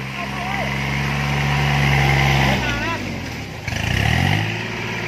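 Two farm tractors pulling a vehicle stuck in mud on an old village road, heavy engines droning loudly and rising in pitch as they strain, with voices talking over them.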